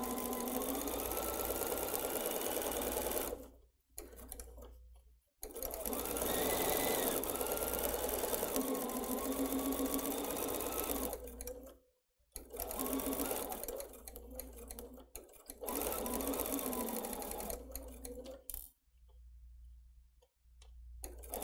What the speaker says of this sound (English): Let's go ahead and head to the machine. We've pinned this really well along here and we're gonna sew a 1/4 inch seam allowance.